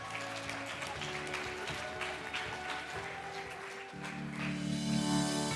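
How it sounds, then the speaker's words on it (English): Audience applause at a leadership and excellence awards ceremony, a broad wash of clapping mixed with steady music tones and a swelling lift toward the end. "Please give him a round of applause."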